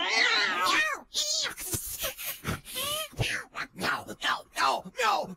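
A voice imitates a cat, drawing out a series of expressive, wavering meows and yowls in a cartoon style, with short pauses between the calls.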